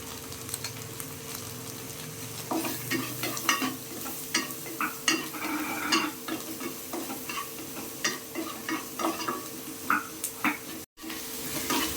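Chopped onions sautéed in a pan for home-made wheat noodles, with a soft continuous sizzle broken by repeated scraping stirs of a spatula, close and clear, with no voices.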